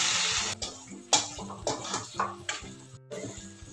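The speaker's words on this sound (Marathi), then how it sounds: "तेच पाणी ह्या भाजीमध्ये घालून घ्यायचं।" Hot water is poured into a pan of cluster bean (gavar) curry, giving a splashing, sloshing pour with a few clinks of utensils against the pot, close by and fairly quiet.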